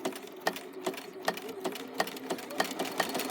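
A sewing machine back-stitches through coiled rope for a basket, a fairly quiet, close mechanical chatter with rhythmic needle thumps repeating about every half second.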